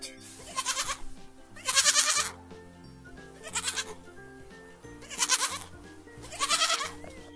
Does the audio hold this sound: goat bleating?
yes